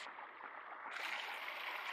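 Water sloshing and splashing in the Gorilla Tag virtual reality game as a player wades in near a waterfall, a steady broadband wash that grows brighter and fuller about halfway through, with no talk.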